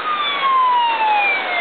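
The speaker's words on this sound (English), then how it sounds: "it sounds like more ambulances going west on Blue Diamond" Ambulance sirens head west on Blue Diamond in Las Vegas during a snowfall, a continuous loud wail sliding slowly downward in pitch as the vehicles pass, with no voices over it.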